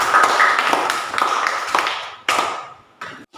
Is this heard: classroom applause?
yes